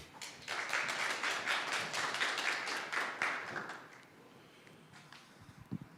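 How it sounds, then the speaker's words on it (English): A crowd applauds briskly for several seconds, then the clapping fades into quiet room noise. "Let's give applause to Grant."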